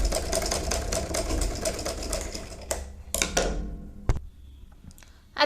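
A sewing machine runs steadily while stitching a baby bonnet, a close rapid mechanical chatter that stops abruptly, followed by a few handling clicks and near silence.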